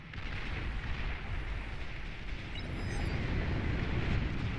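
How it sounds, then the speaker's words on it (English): Dense, rumbling barrages of explosions and artillery-like booms roll on continuously during a Beyond All Reason 1v1 strategy match, with a faint high whistle near the middle. "But a lot of explosion damage going on there."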